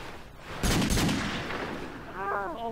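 Two gunshots ring out in a video game, sharp bursts around the middle of the clip, followed by a voice speaking over the game audio.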